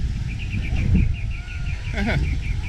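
Chickens cluck and chirp amid a busy outdoor scene on Magic Island, Boracay, Philippines, with goats nearby, voices talking and a repeated high chirping pattern running throughout.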